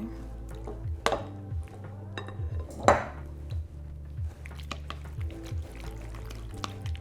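Pasta shells and sauce stirred in a cooking pot, with soft wet sloshing, scraping and occasional clinks of the utensil against the pot over a low steady hum.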